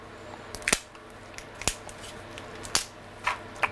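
Cooked lobster shell being cut open: a series of sharp, close snips and cracks, about six to eight irregular crisp clicks spaced over a few seconds against a quiet background.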